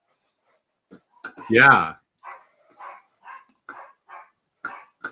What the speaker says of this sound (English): my dog's having a freak out about something